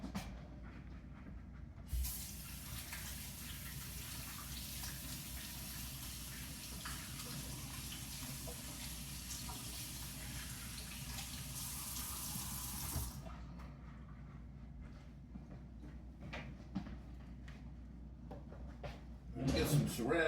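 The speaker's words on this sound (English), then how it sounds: "So let me rinse my hands off." Water runs steadily from a faucet as hands are rinsed, a broad hiss that starts abruptly and holds for about eleven seconds before cutting off, over a low room hum, with small clatters near the end.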